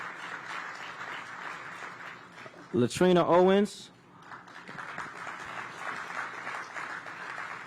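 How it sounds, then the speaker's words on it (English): Outdoor crowd applause at a groundbreaking for a new community space in Congress Heights, moderate clapping heard before and after a speaker briefly announces a name over a loudspeaker. "I want to give them a round of applause"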